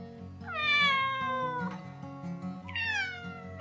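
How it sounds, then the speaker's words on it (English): A domestic cat gives two clear meows, the first long and drawn out, the second shorter after a brief pause, close and alone. "cats possess the widest range of vocalizations of any domestic pet, from purrs, meows,"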